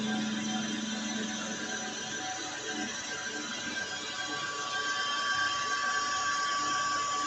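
A metal lathe faces off a cylinder head part with a steady mechanical whir and a faint high whine, a continuous drone that holds even and fairly close throughout.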